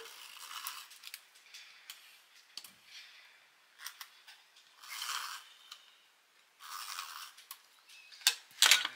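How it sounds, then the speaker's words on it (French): A small roll-on glue tape runner is drawn across paper during scrapbook page crafting, giving several short dry rasping strokes with brief quiet gaps between them, close and fairly soft. "Donc j'utilise toujours mon petit roll-on."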